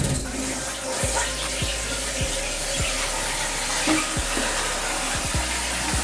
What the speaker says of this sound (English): we're getting water flow and it's filling the tank